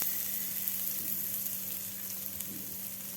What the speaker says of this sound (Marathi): मी इथे एक तवा ठेवलेला आहे पाव भाजण्यासाठी. तर यावर घालायचं आपल्याला थोडंसं बटर.